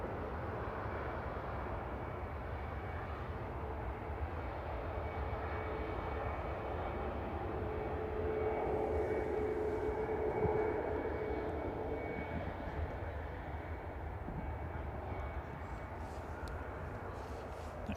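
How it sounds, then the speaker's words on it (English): An EasyJet airliner, registration OE-IDO, departing Manchester Airport for Lisbon, its engines a steady, broad roar that swells a little in the middle and holds throughout. "EasyJet should be departing to Lisbon OE IDO."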